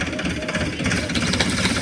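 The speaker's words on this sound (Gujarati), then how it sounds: "તમે જોજો ટ્રેક્ટર ખેંચે અને હવે ઝાડ પડશે" Tractor engine straining as it pulls on a rope tied to a tree, a loud, close, rough mid-pitched rumble with rattling, steady throughout the short stretch.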